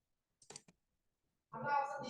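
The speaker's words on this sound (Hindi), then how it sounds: "double click" A computer mouse is double-clicked in a quiet room, giving a quick pair of light clicks, followed a moment later by someone beginning to speak.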